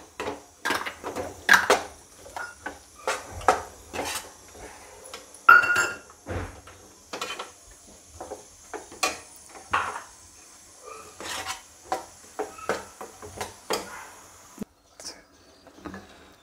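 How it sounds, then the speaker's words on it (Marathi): Rice with almonds, raisins and cardamom powder is stirred in a pan for sweet coconut rice, giving irregular scrapes and metallic clinks of a spoon against the pan throughout, close by with quiet gaps between them and no talking. "आता छानपैकी याला परतून घेऊया"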